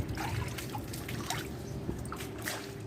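Water trickles and pours steadily into a container while it is being measured, a close, continuous liquid dribble with small splashes and no talking.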